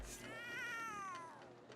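A single drawn-out cat meow in the video game The Sims 3, fairly clear and wavering in pitch, heard over a faint background hum.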